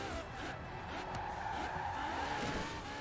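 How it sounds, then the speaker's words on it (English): A Ferrari V12 race car's engine in the video game Forza Horizon 4 drones steadily and fairly faintly, with some tire squeal mixed in. "I'm loving the engine noise on this car,"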